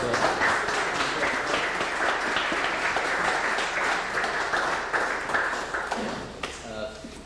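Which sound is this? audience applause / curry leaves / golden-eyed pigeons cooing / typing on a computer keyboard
audience applause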